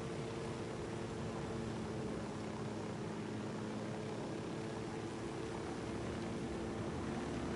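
Helicopter in the video game Ghost Recon Wildlands, a steady, dense rotor-and-engine drone holding at an even level throughout with no voices.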